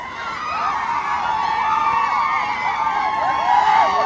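A crowd at a Karjat Kesari wrestling tournament semi-final cheers continuously, with wavering high shouts and whoops rising over a dense, steady roar.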